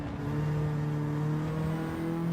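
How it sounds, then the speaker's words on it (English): A car engine revs steadily in fourth gear in Gran Turismo 7, a loud sustained drone with a rising whine and no pauses. "Let it rev in fourth."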